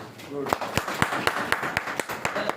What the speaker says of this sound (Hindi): thank you so much sir के लिए तालियां होनी चाहिए